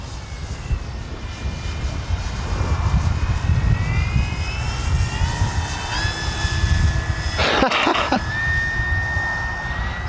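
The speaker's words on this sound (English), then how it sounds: "This is just an amazing airplane." A Flex Innovations RV-8 G2 RC plane flies on a 6S power setup, its electric motor whining steadily with rising and falling pitch as it passes, with a brief louder burst near the end.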